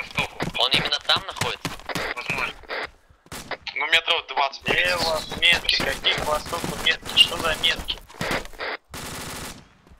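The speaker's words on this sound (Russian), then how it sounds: "Кто стреляет?" Gunfire in the military shooter ArmA 2 rings out in sharp bursts and single shots throughout, loud and close, while people talk over radio chatter between the volleys.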